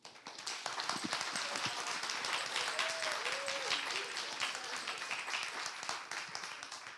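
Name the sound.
audience applause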